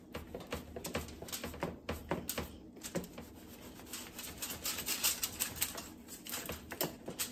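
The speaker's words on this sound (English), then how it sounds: "And now I'm going to cut each side." A knife saws through a sub sandwich bread loaf in a home kitchen, giving quiet, rapid rasping strokes and crackly crust scrapes in uneven bursts, close but faint, with no speech.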